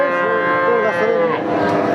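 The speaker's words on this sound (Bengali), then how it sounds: "দেখতে পাচ্ছেন ষাঁড় বাছুর।" A bull calf about one and a half years old moos at an open cattle market, a loud, close, drawn-out bellow lasting nearly two seconds, with faint crowd noise behind.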